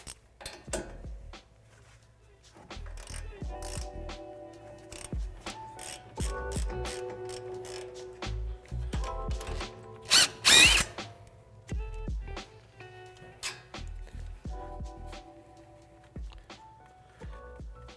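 A 17mm wrench or ratchet works a sway bar end link free on a Toyota Tacoma front suspension, giving bursts of rapid ratcheting clicks and metallic clanks, close and loud, with no talk.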